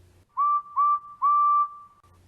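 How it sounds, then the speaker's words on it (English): A toy train's steam whistle from a Plarail railway set gives three clear, sustained tonal peeps in quick succession, the last held longest, alone with no talk over it. ""Peep, peep," he whistled."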